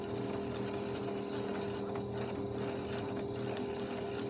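Sewing machine doing free motion quilting with a quilting foot, running steadily at close range as it stitches along a fabric seam, a continuous mechanical whir with dense rapid needle strokes and no voices.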